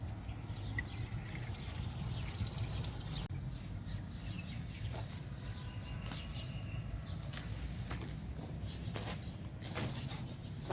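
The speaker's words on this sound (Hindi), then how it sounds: "परिंदों के लिए पानी डाल रहे हैं" Water is poured out for birds outdoors, a continuous trickling splash running steadily throughout, with occasional faint chirps and clicks over it.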